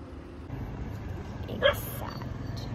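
A small dog in Pune gives a single short, sharp yip near the middle, fairly close, over steady outdoor background noise with no talking.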